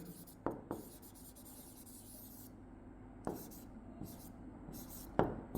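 A pen writes a math statement on paper, giving faint, soft scratching with a few sharper taps as it touches down, close and quiet.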